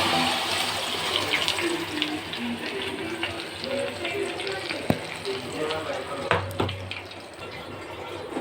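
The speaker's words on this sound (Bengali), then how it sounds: "এখন আমি এখানে সবগুলো মাংস ঢেলে দিব।" Chicken meat poured into melted butter in a pan, sizzling and frying in a steady, loud crackle with a few clinks and stirring scrapes near the end.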